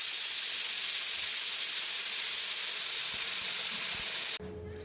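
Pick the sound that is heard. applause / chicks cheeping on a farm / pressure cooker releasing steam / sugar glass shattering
pressure cooker releasing steam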